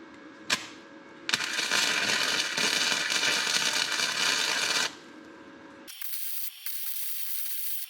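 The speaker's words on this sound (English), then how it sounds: "I clamped that one up there, and I'm gonna start welding it in" Welding a frame stiffener onto a Jeep XJ frame, a loud, close, steady crackling buzz of the weld bead running for several seconds after a brief tap, then stopping.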